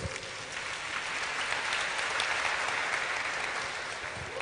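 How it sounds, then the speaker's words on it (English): Audience clapping at a Springboard 2019 motivational event in Kumasi, a steady, dense wash of many hands applauding together for the full stretch, moderately loud and even throughout. "Clap for yourselves"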